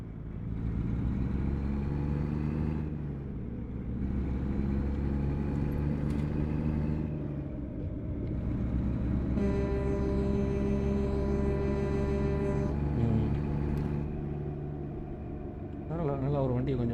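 Truck driving in American Truck Simulator, a continuous low engine drone with tonal gear whine that rises and shifts through the run, loud and close, with someone talking over it.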